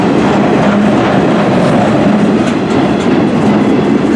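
CN M384 eastbound freight train with flatbed cars passing close by at Port Huron, Michigan, a loud continuous rumbling roar of rolling wheels with faint rhythmic clatter, no voices.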